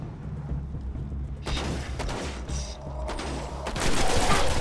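Gunfire rings out in the video game Destiny as enemies shoot at the player: rapid bursts of shots and impacts in clusters, growing louder toward the end.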